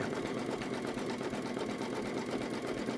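An embroidery machine bean stitching a luggage tag around the strap, ID holder and eyelet tab, with a steady, continuous, close-up mechanical whir and rapid needle chatter that never pauses.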